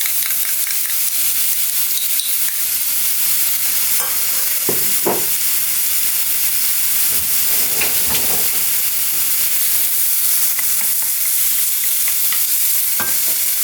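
Gochujang fried with beef in a pan gives a steady hiss and sizzle, broken by a few scraping stirs of the spoon against the pan, close and continuous with no voices.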